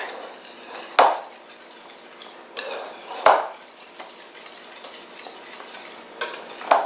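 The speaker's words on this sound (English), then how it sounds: "1 teaspoon of salt, and 1 teaspoon of baking powder. So mix that together." Dry salt and baking powder being stirred together for French bread dough, a soft scraping swirl punctuated by several sharp utensil clinks against the bowl, close and fairly quiet.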